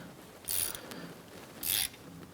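A ratchet snugs a rear axle drain plug on a 1994-2004 Chevrolet S10, two short bursts of quick clicking close by separated by a pause, set against a faint room hush.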